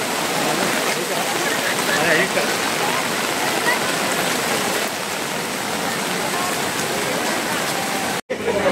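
Heavy rain pours steadily on a shop street in Ganpatipule, Konkan, with rushing, flowing water, a dense continuous roar that stays loud throughout, with a brief dropout near the end.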